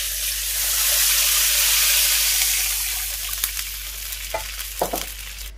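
Water poured into a hot pan of sautéed aromatics for a soup sets off a loud, hissing sizzle that swells and slowly fades, followed by a few close clinks and scraping stirs, with no talking.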